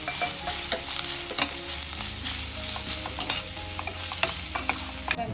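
Crushed ginger, garlic, fennel and onions sauté in a pan for an egg gravy, a continuous close sizzle broken by frequent clinking and scraping spatula stirs.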